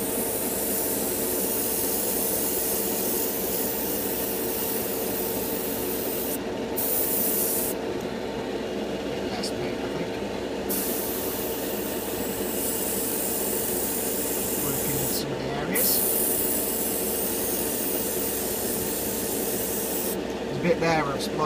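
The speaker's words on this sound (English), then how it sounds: "Just going to mist it from a distance first." Spray paint misted from a distance onto a 1/35 Trumpeter Stryker model tank, a continuous close hiss that runs almost unbroken, with a few short gaps as the nozzle is released, over faint background hum.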